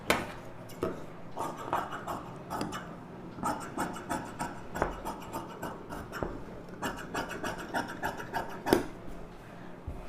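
Scissors cut through blouse lining fabric for a U-neck blouse, making a string of close, rhythmic crunching snips with short pauses between strokes.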